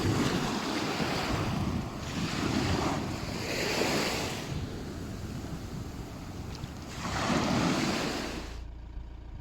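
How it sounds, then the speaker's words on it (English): Sea waves surge and wash in repeated swells, loud and close around someone paddling in the shallows, with wind buffeting the microphone and no talk. "Do a bit of paddling. Yeah, a bit of paddling. Woohoo! I'm in the sea."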